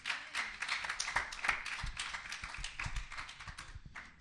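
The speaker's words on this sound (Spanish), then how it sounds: "Dele un aplauso al Señor, mi hermano" Scattered clapping from a church congregation during a service, many hands striking unevenly in a dense, moderately loud patter that runs steadily throughout without talk.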